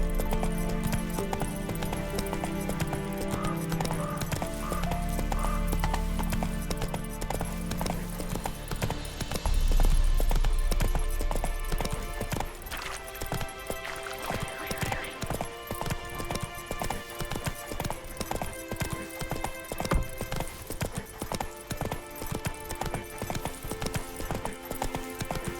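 Roach the horse gallops in The Witcher 3: Wild Hunt, with rapid, rhythmic hoofbeats close and clear over a layer of game music, and a short stretch of heavier rumble near the start.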